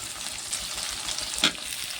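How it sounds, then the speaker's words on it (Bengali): Onion and potato fry in mustard oil in a wok with a continuous close, bright sizzle and one brief stirring scrape near the middle. "আর পেঁয়াজটা ভালো করে ভেজে নেবো।"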